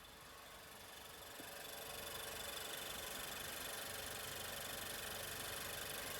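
A Nissan Juke car engine idles in a steady, faint hum with a light rhythmic knock, growing slightly louder and then holding even.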